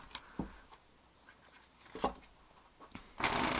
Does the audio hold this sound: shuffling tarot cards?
yes